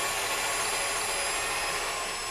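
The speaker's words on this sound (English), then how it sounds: "So let's turn it on and whisk." An electric whisk whips cream for a one-step no-churn coffee ice cream, giving a steady, continuous high motor whir with a dense even hiss throughout, close and loud.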